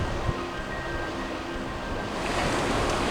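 Ocean waves washing on a beach, a steady close roar of surf with gusty wind noise on the microphone that swells slightly toward the end, no speech.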